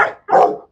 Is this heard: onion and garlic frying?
no